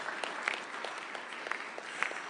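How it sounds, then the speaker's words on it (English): A large audience applauds at a formal signing ceremony at State House in Nairobi, the clapping dense and even, heard from a distance and fairly quiet, with no talking over it. "Let's give them another round of applause"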